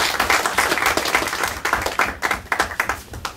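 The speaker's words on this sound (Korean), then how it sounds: "우리에게 사랑을 주신 주님께 박수로 한번 영광드리겠습니다." A church congregation claps together in praise during a Sunday service, a dense wash of many hands with uneven bursts rising and falling over about three seconds, close and fairly loud, with no talk over it.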